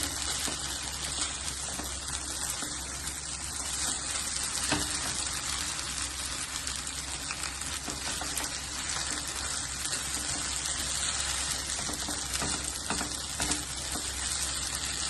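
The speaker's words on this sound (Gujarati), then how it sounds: "હવે થોડું દૂધ નાખીને એને સ્લો ગેસ ઉપર મૂકી દઉં છું. થોડુંક વ્યવસ્થિત હલાવું છું." A corn chevda mixture with added milk is stirred in a pan over a low gas flame, making a steady, dense sizzle and bubbling hiss throughout, with faint scraping strokes beneath, close and continuous.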